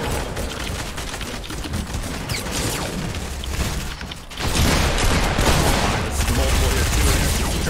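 Gunfire in the video game Fortnite, dense and loud rapid bursts of shots that continue throughout and grow heavier in the second half, with players talking over them.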